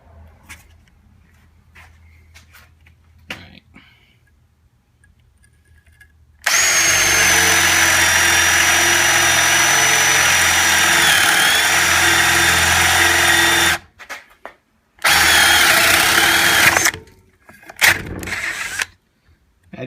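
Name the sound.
Porter Cable 20V cordless drill with spade bit drilling a 2x4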